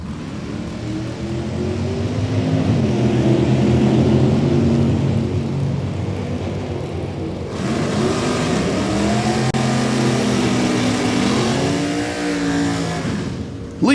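A 1969 Camaro and an 1981 Camaro charge down a drag strip side by side, a loud, sustained engine roar rising through gear changes, with a harsh broadband surge midway as the cars pass close.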